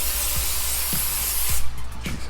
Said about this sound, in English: So get yourself a pan, spray it.